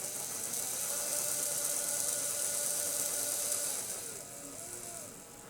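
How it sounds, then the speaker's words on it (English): A small electric motor under proportional joystick control through an Arduino and NRF24L01 radio link, whirring faintly with a rising, steady tone that slows and shifts near the end. "the motor should start to move slowly, and the further we go forward, it should get faster"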